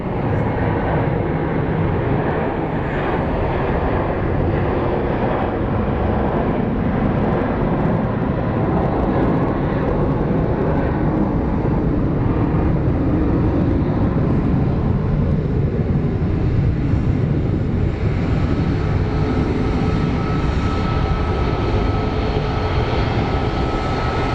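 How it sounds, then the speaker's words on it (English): Steady broadband roar of a Delta airliner headed for JFK at Phoenix Sky Harbor airport, a continuous engine rumble filling the whole stretch with no voices. "And there's our JFK bound Delta."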